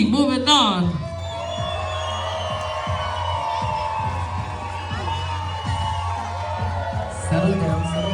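A crowd at a North LA versus OC breakdancing battle cheers and whoops loudly and continuously, with sharp yells rising above the roar and a big swell at the start and again near the end.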